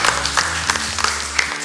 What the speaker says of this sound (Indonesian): Kita beri tepuk tangan buat oma-oma PGLU.